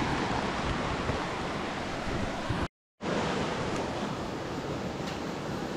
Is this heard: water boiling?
yes